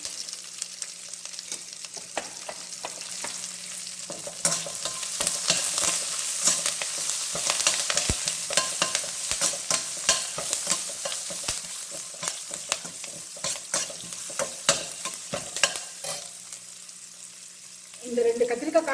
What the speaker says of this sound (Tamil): வெங்காயம் கருவேப்பிலை உப்பு போட்டுட்டு கொஞ்சம் பெருங்காய பவுடர் போடுறேன்.